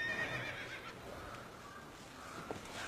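A horse whinnies faintly amid a noisy, busy background, with no clear voices in the mix.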